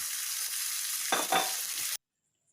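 A spoon stirs Nalleru chutney into curry leaves frying in a pan, giving a steady close sizzle with a louder scraping burst midway, then the sound cuts off abruptly into silence.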